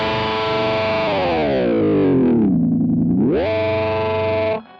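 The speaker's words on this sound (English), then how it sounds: "Okay, so now I've got the pitch shift." Electric guitar run through a Boss GX-10 pitch shifter, a sustained distorted chord whose pitch glides down, dips low, then snaps back up before cutting off; loud and alone.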